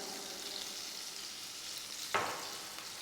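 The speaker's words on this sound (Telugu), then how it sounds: "ఇవన్నీ మంచిగా వేగాలి, బ్రౌన్ కలర్ వచ్చే వరకు వేయించుకోవాలి" Onions fry with salt in a pan for a dhaba-style chicken curry, giving a soft, continuous sizzle with one brief scraping stir partway through and no talking.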